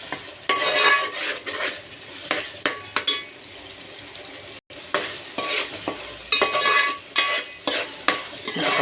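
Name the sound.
frying coriander and cumin paste for fish curry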